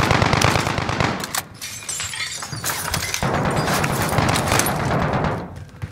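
Bursts of automatic video game gunfire rattle in quick clusters, loud and close, with breaks between volleys in a fast-paced shooter firefight.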